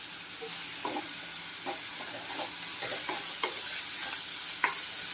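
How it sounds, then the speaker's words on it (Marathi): Onions and curry leaves frying in a pan, a steady close sizzle with intermittent scraping taps of a spoon stirring through it. "हा कांदा आपण व्यवस्थित शिजवून घेऊया"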